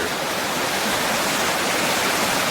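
The North Fork Koyukuk River in a wilderness valley, a steady broadband rush of flowing water, constant and close, with no other sounds.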